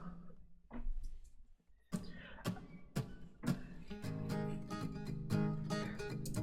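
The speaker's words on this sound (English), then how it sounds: "acoustic guitar, which sounds like this" An acoustic guitar part in a Logic recording session is heard alone, starting with sparse plucked notes, then settling into steady strummed chords that grow fuller and louder, close and clear.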